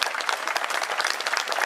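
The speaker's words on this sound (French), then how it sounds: "Voilà les Miss qui encadrent les grandes championnes du cyclisme mondial avec à nouveau les applaudissements du public" Spectators applaud at the podium of a women's World Cup cycling race in Plouay, a steady dense clapping from a sizeable outdoor crowd with no pauses.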